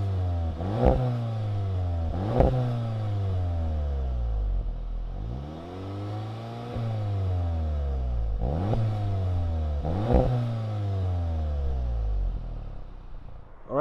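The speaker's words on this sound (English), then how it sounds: "you're gonna have your dual exhaust down here. I'll let you guys go ahead and take a listen to that." 2019 Volkswagen GTI with dual exhaust revving while parked: the engine climbs and falls in about five repeated throttle blips over a steady idle, loud and close to the tailpipes, with no talking.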